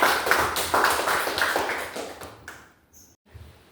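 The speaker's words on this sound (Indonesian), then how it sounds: "Beri tepuk tangan untuk Zahya." Students in a biology classroom clap for a classmate who answered correctly, a brisk burst of many hands that fades out after a few seconds, followed by near quiet and a faint thump.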